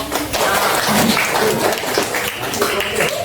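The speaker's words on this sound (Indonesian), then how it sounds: "Ya jangan lupa kasih aplaus kelompok." Applause from a classroom audience for a student group that has just finished presenting, dense clapping mixed with voices throughout, brief and fairly loud.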